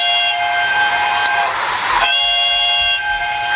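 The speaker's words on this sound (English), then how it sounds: "She even tried to whistle like Thomas." A steam train whistle sound effect in a children's train story sounds as a steady, shrill, sustained whistle with a brief rush of hissing steam partway through, loud and alone.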